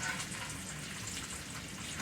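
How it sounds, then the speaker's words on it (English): Bacon frying in a pan to render out its fat, a steady close hiss and crackle of sizzling grease that holds evenly throughout with no talking. "I've got some bacon going over here, rendering some bacon out."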